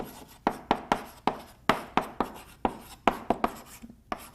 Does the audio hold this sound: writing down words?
yes